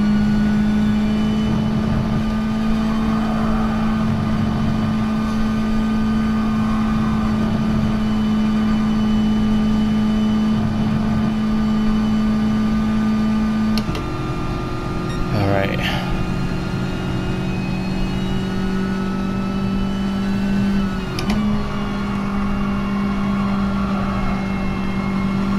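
Racing car engine in Gran Turismo Sport, a steady loud droning hum that steps up in pitch around the middle as the throttle opens, then settles into another sustained tone, with a voice talking throughout.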